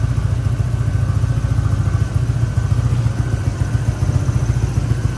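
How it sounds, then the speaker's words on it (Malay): A Yamaha LC motorcycle engine idles steadily to recharge its battery after sitting parked, a close, loud, even low thrum with a faint mechanical clatter throughout. "Bagi enjin jalan, bagi bateri tu charge balik."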